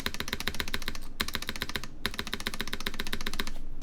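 Rapid typing on a BeatLab Solar80 mechanical keyboard, a dense stream of close, crisp key clacks that pauses briefly twice before carrying on steadily, with no voices.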